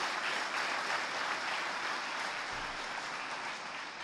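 An audience at a talk on self-study and yoga breaks into thick, steady applause, a continuous wash of many hands clapping that holds evenly and eases off slightly toward the end.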